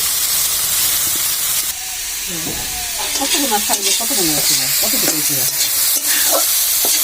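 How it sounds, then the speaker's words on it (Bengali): Kolai saag greens frying in a pan with salt, sizzling and hissing steadily while being stirred with repeated scraping strokes; a voice briefly sounds over the cooking midway. "তো আমাদের শাক ভাজা হয়ে গিয়েছে, এখন আমরা নামিয়ে নিব।"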